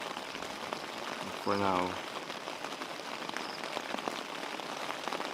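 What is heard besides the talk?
rain falling on tent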